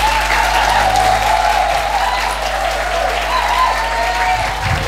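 A church congregation giving loud, enthusiastic applause, continuous dense clapping close by, with a low steady hum underneath throughout.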